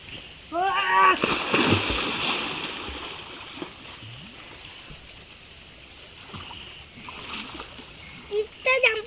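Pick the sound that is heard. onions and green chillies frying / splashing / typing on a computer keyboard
splashing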